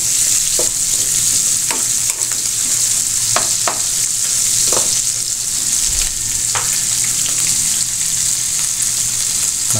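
Pork frying in a pan as its fat renders out, loud steady sizzling with repeated scraping stirs and light clinks throughout, no one talking.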